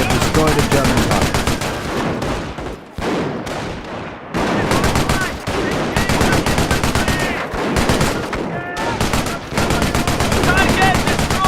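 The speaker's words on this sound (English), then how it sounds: "An MG emplacement is an excellent defense against attacking infantry." Machine gun emplacement firing in a WWII video game, loud rapid bursts of gunfire with brief pauses between volleys, mixed with battle noise throughout.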